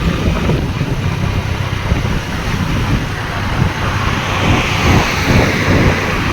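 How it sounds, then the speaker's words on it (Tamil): Car held in a single gear, second, at around 40 km/h on a road, its engine drone steady and continuous with road and wind noise throughout, no talking. "இப்போ ஒரே கீரில் தான் வண்டி போயிட்டுருக்கு"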